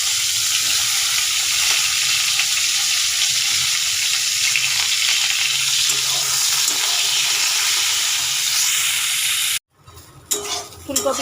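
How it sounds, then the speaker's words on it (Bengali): Cauliflower pieces frying in a little oil, some of it left over from frying vegetables, give a steady, loud sizzle for about nine and a half seconds, then cut off abruptly, followed by brief stirring clatter. "ওই সবজি ভাজার তেলেই আর অল্প তেল দিয়ে দেব, দিয়ে ফুলকপিগুলো ভেজে নেব"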